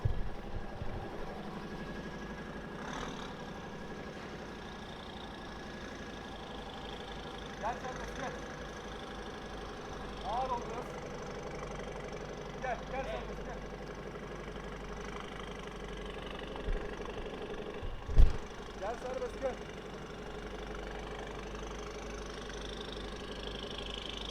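Low, steady rumble of a Mercedes GLA200 1.6 idling outdoors with a remote-controlled valved Varex exhaust, a deep exhaust drone throughout with a single louder thump partway through.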